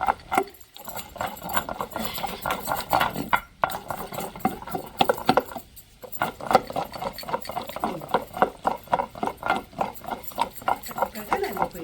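Green chillies pounded in a stone mortar for bottle gourd chutney, rapid repeated thuds and grinding knocks, close and continuous, with a voice talking over much of it.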